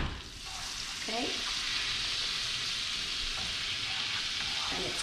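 A butter and flour roux for trout meunière sizzles and fries steadily in a pan, with a few spoon stirs and scrapes close by and no talking.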